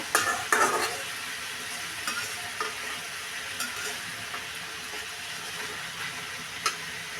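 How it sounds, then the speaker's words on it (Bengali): Amaranth stalks and potatoes frying together in a pan, a steady close sizzle with scattered scrapes and clinks of a spoon stirring, louder bursts early on, no voices. "আজকে ডাটা আর আলু একসাথে দিয়ে দিলাম কারণ এই ডাটা শাকের ডাটাগুলো শক্ত অনেকক্ষণ কষাতে হয়"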